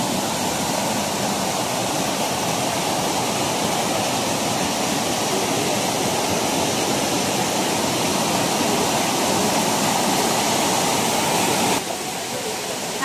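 Pinlac Falls waterfall in Infanta, Quezon: rushing water pours steadily, a loud continuous roar close by, broad and unchanging until a slight dip near the end.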